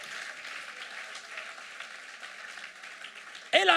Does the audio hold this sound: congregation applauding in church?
yes